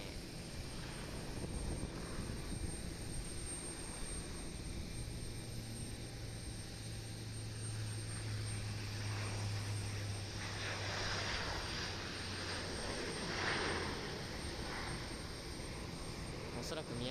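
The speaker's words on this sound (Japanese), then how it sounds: "なかなかちっちゃいんですけども、プロペラ機ですね。" A small propeller airliner approaches at Osaka Itami Airport, its engine drone steady and moderately loud with a low hum held throughout, heard from a distance over broad outdoor noise.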